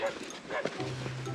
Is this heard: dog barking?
yes